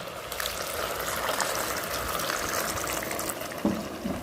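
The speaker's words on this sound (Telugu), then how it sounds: "ఇవన్నీ వేడి నీళ్ళు పోస్తాను." Hot water poured from a kettle into a pot of mutton for dum biryani, a continuous close splashing gush and bubbling liquid sound with a brief clink near the end.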